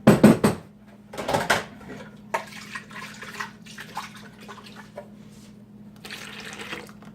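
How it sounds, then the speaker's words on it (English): Filtered water swished around inside a container to rinse out bits of lemon, with a few splashy sloshes at the start and then softer trickling, with a faint steady hum underneath. "I'm going to swish it around a little bit."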